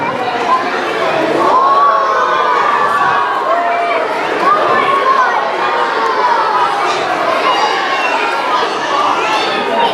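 A crowd of children shrieks and shouts continuously throughout a live wildlife show with snakes, loud and dense, with overlapping excited voices.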